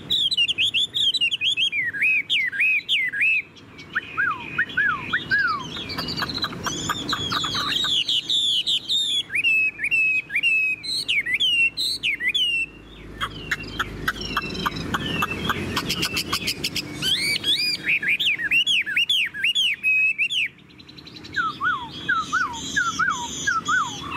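A Chinese hwamei songbird of about 75 g, currently molting, sings up close and loud. Its varied, rapid whistled phrases and warbling trills run almost continuously, broken by only brief pauses.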